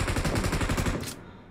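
Video game gunfire: a rapid automatic burst of about a dozen loud, closely spaced shots that stops abruptly and leaves a short fading tail.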